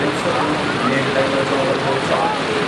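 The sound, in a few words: heavy rain in Surat city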